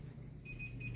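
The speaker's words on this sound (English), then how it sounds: "Okay, the alarm is going off" A kitchen oven timer alarm sounds steadily, its electronic tone starting partway through and continuing to the end over a low background hum, with no one talking.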